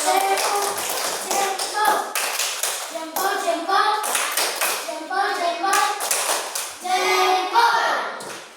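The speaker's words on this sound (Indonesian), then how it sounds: "Tepuk tangan untuk" A classroom of young children applauds in quick, uneven bursts of hand clapping during a primary school science lesson, with children's voices chattering over and between the claps.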